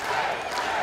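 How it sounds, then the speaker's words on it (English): A wrestling crowd roars for Rey Horus at an ROH Best in the World event, a loud, sustained wash of cheering and yelling from a full arena. "The crowd really coming alive for Rey Horus"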